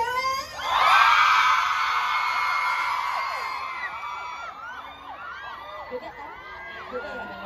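Festival concert crowd of girls screaming loudly together, a dense sustained high shriek that swells at once and then thins into scattered overlapping cries.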